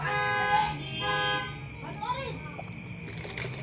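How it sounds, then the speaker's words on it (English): A motorcycle horn honks twice in quick succession with a nasal, buzzy tone, followed by engine noise and faint street sounds in the background, in a rural province in the Philippines. "You hear the noise of the motorcycle?"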